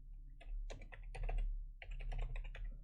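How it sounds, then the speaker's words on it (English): Fast bursts of computer keyboard typing, close and fairly quiet, with a steady low hum underneath as a class argument is entered in JavaScript code. "So just type it in here."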